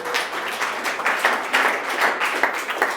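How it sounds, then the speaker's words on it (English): Audience applause for the winner of a pub-style quiz, a steady wash of many hands clapping at moderate volume for three seconds, with no speech over it. "Round of applause for the gentleman."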